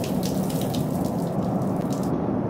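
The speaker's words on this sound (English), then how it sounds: "Oh, the water turned off." Running water in a horror video game: a steady, close rush of flowing water like a tap running, continuous and unbroken, with no talk.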